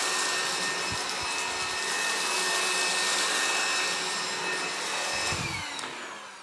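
A Gtech Pro cordless bagged vacuum cleaner running in eco mode over carpet scattered with rolled oats makes a steady, loud motor whine and airflow roar that eases slightly toward the end.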